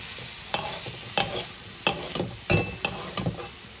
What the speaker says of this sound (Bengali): দিয়ে এবার এগুলোকে ভালো করে সবজির সাথে ভেজে নেবো ওটসটাকে।